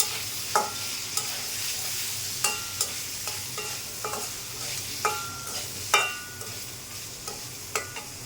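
Potatoes and tomatoes fry in oil with turmeric, salt, a bay leaf and green chilies for a rohu fish curry: a constant close sizzle broken by regular sharp clicks of a spoon stirring the pan.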